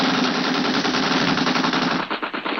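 Rapid machine gun fire rattles loudly and continuously as a sound effect in a vintage radio drama, a dense burst of shots without pause.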